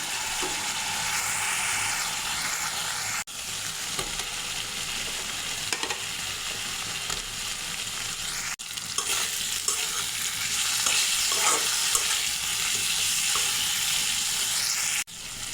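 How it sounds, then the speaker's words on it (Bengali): Fried potatoes stirred into sizzling spiced masala in a pan for a koi fish curry, a steady close frying hiss with scraping stir strokes throughout, no talking. "এখন দিয়ে দেব ভেজে রাখা আলু"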